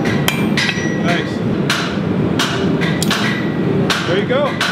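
Hot steel is hammered at a blacksmith's forge: a series of hard, bright metallic blows land at uneven intervals, close by, while people talk underneath.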